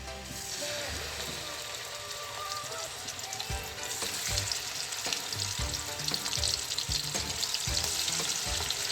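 Pieces of fish fry in oil in a pan, giving a dense, steady sizzle with small crackles and occasional low bumps, close and fairly loud with no speech.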